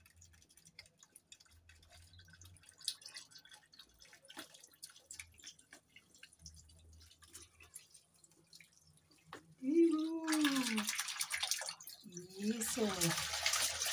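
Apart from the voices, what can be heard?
duck bathing in water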